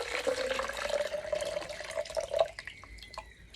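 Water pouring from a tap into a container for dissolving jaggery into a drink, a steady trickling stream that stops partway, followed by a few faint drips and small clinks.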